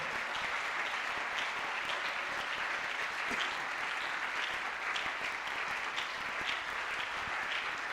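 A church congregation at an evening worship service claps continuously, a dense, steady roar of many hands applauding together throughout with no break.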